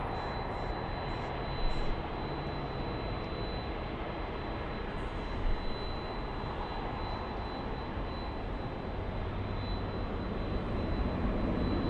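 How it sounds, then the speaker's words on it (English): A broad, steady roar comes from airliner jet engines as a large plane taxis to the runway at LAX airport. The sound is loud and continuous and rises gently toward the end, with no voices heard. "We have the big Captain Ken Mobile taxiing to the runway."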